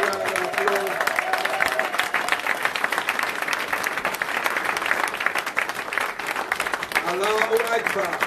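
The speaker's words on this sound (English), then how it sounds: "Let's give them a big round of applause." Sustained audience applause at a mosque event, dense steady clapping from a large crowd lasting the whole stretch, with faint voices mixed into the background.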